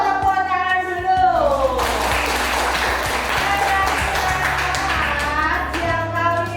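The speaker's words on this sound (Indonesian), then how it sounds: "Tepuk tangan dulu." Children in a classroom clap their hands together, a burst of mixed clapping that rises between voices, with children and a teacher talking and calling out around it.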